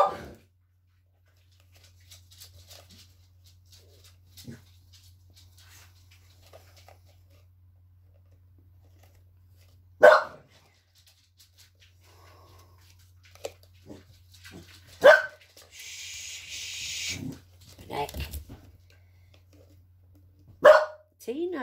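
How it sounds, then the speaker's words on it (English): A dog gives several sharp, isolated barks spaced seconds apart, loud and close, with quiet moments and a brief rustle between them. "Sometimes you get carried away with barking"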